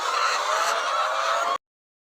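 Laying hens clucking together inside a henhouse at a farm in N'douci, a dense continuous chorus of overlapping clucks and squawks that cuts off abruptly before the end.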